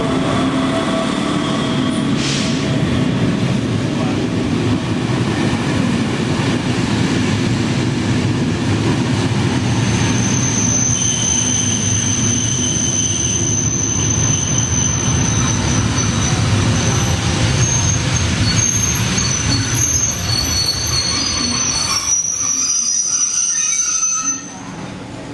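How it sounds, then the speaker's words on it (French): A reversible TER Corail train from Chambéry rolls into a station platform with a loud, sustained rumble and long, high-pitched wheel squeals that persist as it slows, ending in a sudden drop to quieter hiss. "La rame arrive de Chambéry."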